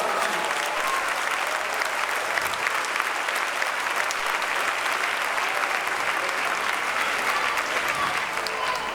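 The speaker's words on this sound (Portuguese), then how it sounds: "aplauda o Senhor Jesus Cristo" A church congregation applauding during a sermon, with steady, dense clapping from many hands that stays even and continuous throughout.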